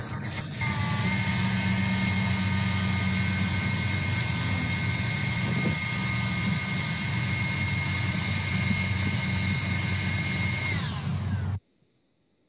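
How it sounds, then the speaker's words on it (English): A blower pushes air beneath a methane barrier membrane, giving a loud, steady mechanical drone with a constant whine. It runs unbroken for about eleven seconds and then cuts off abruptly to near silence. "we're going to play a small video just to show how this blower is inserting air under the membrane"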